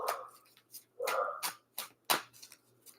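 A female dog barks outdoors in a street, several sharp barks in an uneven rhythm at moderate distance, alone with no talk over them.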